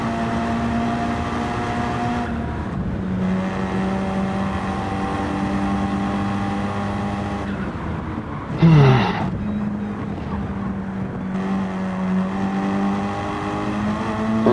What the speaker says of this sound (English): There goes the Lancer, and now it's the Endurance Delivery BMW.